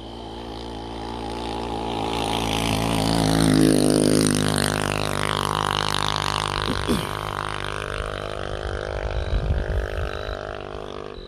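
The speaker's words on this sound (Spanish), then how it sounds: "Van dos personas en una moto hacia donde estás" A motorcycle carrying two riders approaches along a dark rural road, its engine drone swelling as it nears, then easing and staying audible with some nearby rustling.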